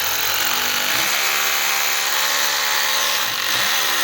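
A power drill bores a hole to mount a DTH satellite dish, a loud, continuous grinding whine close by with brief dips in pitch as the bit bites, and no voices over it.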